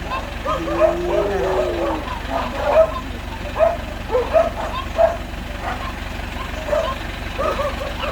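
A Siberian husky yips and barks in short bursts, fairly close, while people talk and an engine idles in the background.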